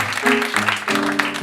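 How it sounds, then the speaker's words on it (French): Audience applause at a poetry evening's eighth-anniversary celebration, a dense wash of clapping running steadily through the moment with a musical tone sustained beneath it. "On les applaudit, mesdames et messieurs."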